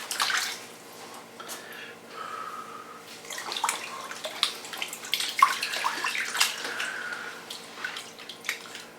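Brine water for boiled ham being stirred by hand in a container, with irregular sloshing and splashing strokes, close and moderately loud, with no talking.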